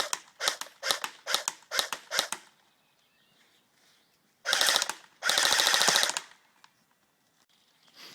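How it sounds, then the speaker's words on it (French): An AK-105 rifle is test fired outdoors: a rapid string of sharp, loud shots, a short lull, then two dense bursts of automatic fire with faint reports trailing after. "Donc voilà le test de tir terminé. De l'AK-105."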